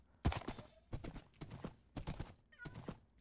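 Hooves of a horse in the Minecraft video game clip-clop in a few short, separate clusters, close and fairly quiet, with nothing else around them.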